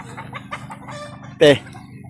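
Scattered soft clucks from a chicken at a riverside farm campsite, then one loud, harsh squawk near the middle, over a steady low rumble of background noise.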